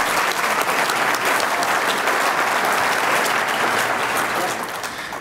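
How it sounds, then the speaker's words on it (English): Sustained applause from an audience welcoming board members at a hall of fame introduction event, steady and full throughout before tapering slightly at the end. "Big round of applause for our board."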